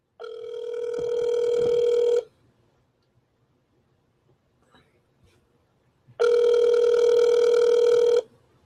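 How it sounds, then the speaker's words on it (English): Ringback tone of an outgoing telephone call, two long steady buzzing rings about four seconds apart with near silence between them, no talk. "Hear the ringer?"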